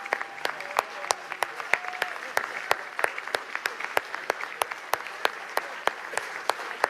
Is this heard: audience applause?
yes